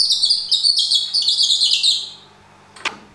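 A wooden bird-call whistle with horsehair inside imitates a nightingale with a quick warbling trill of high notes for about two seconds, followed by a brief click.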